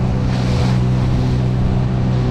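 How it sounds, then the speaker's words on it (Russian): Heavy rushing river water and strong west wind roar continuously, with high waves churning against the current loudly and steadily close by. "И волна против течения просто огромная"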